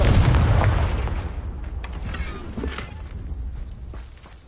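A Confringo spell explosion in Hogwarts Legacy on PS5, a heavy low boom at the start that rumbles and decays over several seconds with scattered small pops and debris sounds.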